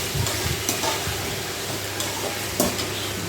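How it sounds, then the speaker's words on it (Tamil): Onions and snake gourd sauté in hot oil for sambar, giving a continuous close sizzle with a scattering of soft stirring scrapes and clicks from the pan. "அந்த எண்ணெயோடு சேர்த்து வெங்காயத்தோடு வதக்கணும்."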